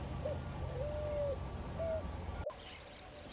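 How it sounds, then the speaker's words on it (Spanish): A picazuro pigeon calls in the countryside at early morning, a few low drawn-out cooing notes spaced apart, clear over a steady background hum, with a sharp click near the end. "como esta paloma picasuró calentándose con los primeros rayos del sol"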